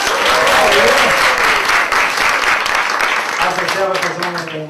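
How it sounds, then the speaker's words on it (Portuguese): An audience at an evening arts gathering applauds loudly and continuously, with cheering voices and people talking mixed into the sustained clapping. "Cadê os aplausos, gente?"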